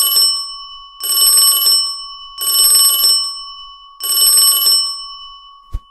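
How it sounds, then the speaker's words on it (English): A cartoon telephone rings in three loud, bright electronic bursts of about a second each with short gaps between, then a brief click at the end; no talking. "Someone's calling you on the phone, guys."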